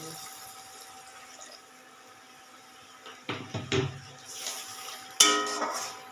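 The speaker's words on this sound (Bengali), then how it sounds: "মশলাটা কষে গেছে একটু জল দিয়ে দিলাম" Water is poured into fried spice paste in a pan while cooking prawns, giving a short splashing, sizzling burst in the middle followed by a sharper clatter, all fairly close with no talking.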